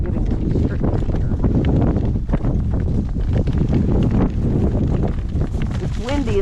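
Strong gale-force wind buffets the microphone in a loud, steady roar during an outdoor drive, with a person talking over it and faint rhythmic hoof-like clopping beneath.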